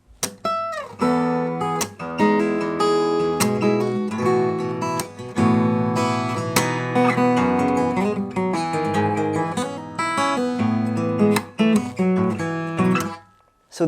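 Acoustic guitar playing the opening of part 5-1 of a piece, a continuous fingerstyle passage with thumb-plucked bass notes and ringing chords, played close and alone for about fourteen seconds.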